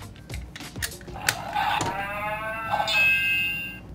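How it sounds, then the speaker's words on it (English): A drawn-out, wavering cow moo rises in the middle, preceded by a few sharp knocks and followed by a brief tonal ring. "Did you hear that sound effect? They killed the cow. It was mooing"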